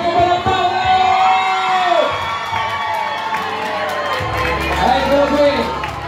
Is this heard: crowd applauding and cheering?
yes